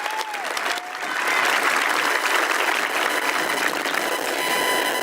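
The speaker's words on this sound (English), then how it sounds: "Can we have another round of applause for both of these young ladies?" A school audience applauding two young ladies, steady crowded clapping that swells after a moment and holds evenly, fairly close, with no talking over it.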